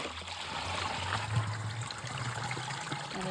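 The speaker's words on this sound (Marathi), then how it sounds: "घागरीत पाणी भरायचं." Water runs steadily into a metal pot, a soft continuous trickle with a faint rising tone as it fills with fresh water for a deity's bath.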